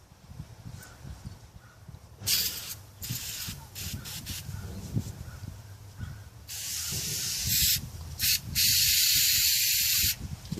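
CRC battery cleaner sprays in hissing bursts onto a green, copper-corroded car battery terminal, with short blasts and then a longer sustained spray, close and fairly loud among small handling clicks.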